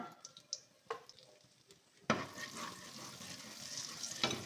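Cumin and chili powder tipped into hot ghee for shahi paneer set off a sudden, steady sizzle that holds at close range after a few quiet seconds of faint kitchen clinks.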